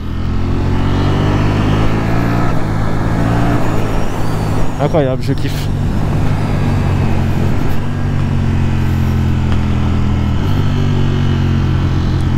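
A new motorcycle with a stock exhaust idles and runs steadily close by, a constant low engine rumble throughout, with someone talking over it.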